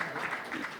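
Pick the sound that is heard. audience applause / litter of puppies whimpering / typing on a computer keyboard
audience applause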